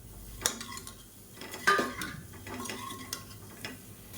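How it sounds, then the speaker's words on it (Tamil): Eggs stir-fried with masala in a kadai over low heat, with a utensil scraping and clinking against the pan in a few sharp strikes amid quiet, faint sizzling. "இப்போ இந்த முட்டை எல்லாத்தையுமே இதில் சேர்த்து நல்லா வறுத்துக்கலாம்."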